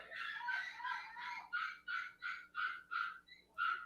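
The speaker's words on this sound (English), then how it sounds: "Is that a dog? Sound like a bunch of dogs yapping." Several dogs yapping and barking in a rapid series of sharp, high yips, about eight distinct bursts in a row at moderate distance, with no talk over them.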